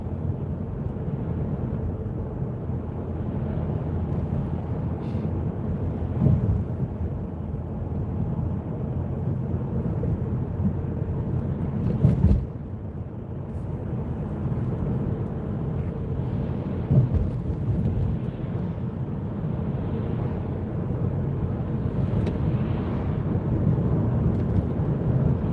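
Low, constant wind roar buffets a car driving at night on a windy, cold UK road, a steady rumbling wash with occasional louder gusts and thumps.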